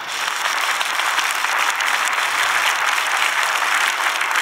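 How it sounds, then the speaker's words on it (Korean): A church congregation at a dedication and ordination service breaks into loud, dense applause that stays steady and full throughout. "우리 영광의 박수를 한번 하겠습니다"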